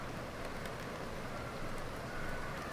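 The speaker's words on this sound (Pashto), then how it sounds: "باران وریږي" Steady rain falls as an even, dense hiss, soft and continuous throughout with no voices.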